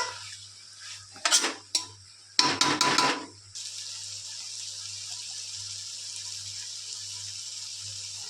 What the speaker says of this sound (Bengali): ম্যারিনেট করে রাখা মাংসটা দিয়ে ভালো করে নাড়িয়ে নেব